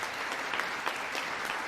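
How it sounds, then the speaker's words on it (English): Brief burst of a standing ovation in a chamber of Congress during a presidential address, many people clapping together in a continuous, even roar of hands with scattered louder claps. "Why is that a standing ovation?"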